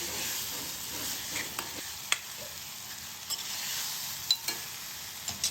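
Onion-garlic masala with green chilies sizzles steadily in a pan, a soft continuous fry broken by occasional scraping clicks of a spoon stirring, close and fairly quiet.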